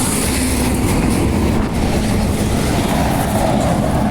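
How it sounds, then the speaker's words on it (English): Loud, continuous rumbling and rattling of freight trains rolling past close by, a steady heavy roar with no break. "And we have the freight trains."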